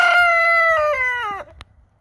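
A rooster crows once, close and loud, a single drawn-out call that falls in pitch at the end, followed by a brief sharp click and quiet.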